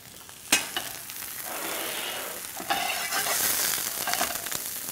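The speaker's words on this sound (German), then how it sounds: "Das wir einfach in der Pfanne ein bisschen anrösten." Slices of farmhouse bread toasting in a frying pan, a steady soft sizzle with a couple of sharp clatters as the bread is moved or pressed, heard up close with no talking.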